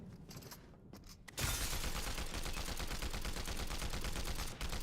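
Rapid automatic gunfire from a video game rattles in a steady, dense stream of rapid shots after a brief quieter opening, loud and sustained for several seconds.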